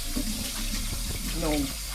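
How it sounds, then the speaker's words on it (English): Tap water running into a kitchen sink while raw chicken is rinsed, a steady close splashing stream with some clinking, and a person talking over it. "You can also rinse the chicken off while you're throwing the water down the sink."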